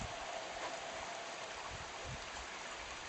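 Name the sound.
rain falling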